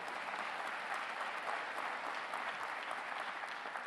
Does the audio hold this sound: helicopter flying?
no